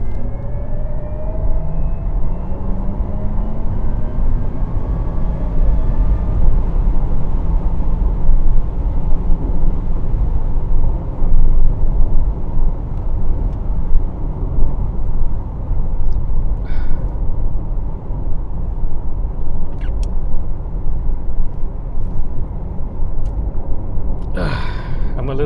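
A Porsche Taycan 4S electric car accelerates hard to overtake on a highway, with a steady cabin roar of road and wind noise and a faint rising electric whine, plus a brief breathy sound near the end.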